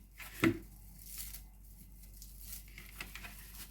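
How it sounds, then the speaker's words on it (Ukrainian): A knife cuts through a baked zucchini roll, one sharp close chop followed by quieter soft scraping and cutting sounds. "зараз буду різати"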